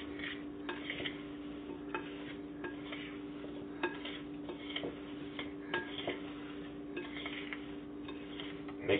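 Sliced apples being mixed with pie mixture in a bowl, quiet repeated clicks and soft scrapes of a utensil against the bowl at an uneven rhythm.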